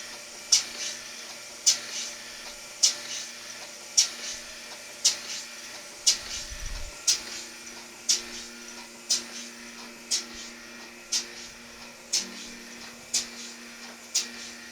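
A napkin printing machine runs with a steady hum and hiss, punctuated by regular mechanical clicks roughly every second as its conveyor cycles alongside a vacuum.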